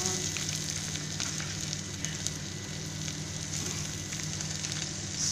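Squid frying in a pan for adobong pusit, a continuous dense sizzle with faint crackles and stirring, steady and close with no talking.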